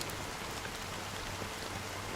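Steady rainfall in Honkai Star Rail pours down as a continuous, even hiss of drops, with no voices or other sounds over it.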